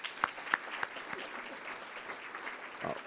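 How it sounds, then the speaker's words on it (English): An audience claps for a panel after a political satire discussion, with a few sharp, distinct claps at the start giving way to a faint, thin patter. "Let's give them all a round of applause one more time"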